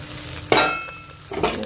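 Potatoes go into a hot pan for soya pulao, a sudden loud sizzle that fades, then a second burst of frying and stirring with a utensil scraping the pan.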